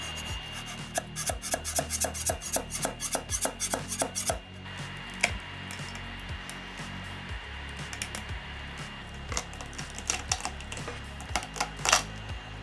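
A resin 3D print is scraped off the metal build plate of a Creality Halot-Mage 8K resin printer: a rapid run of close, rasping strokes, then slower, scattered scrapes and taps.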